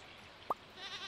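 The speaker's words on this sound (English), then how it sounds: "Oh, are the goats gonna be angry?" A single short goat bleat from the Stardew Valley farming game sounds once, brief and fairly faint over quiet background tones.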